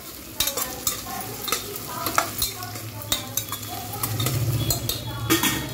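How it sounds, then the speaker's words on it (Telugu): Crushed ginger and garlic frying with onions in a pan for vegetable biryani, with a close sizzle and repeated scrapes and clicks of a spatula stirring. "ఇప్పుడు అల్లం వెల్లుల్లి దంచి పెట్టుకొని వేస్తున్నానండి"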